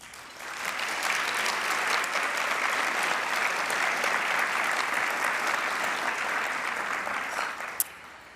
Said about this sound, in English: I hope you will join me in giving them all a round of applause